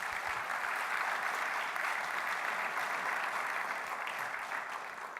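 Sustained, even applause fills the hall as an audience at a business plan competition claps for the speaker, a dense crowd sound with no voices on top.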